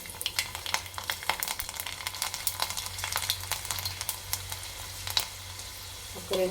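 Mustard seeds, black gram and garlic sputter in hot oil in a pan for a village-style green chilli chutney, with dense crackling pops and rapid spitting close up, plus occasional stirring scrapes.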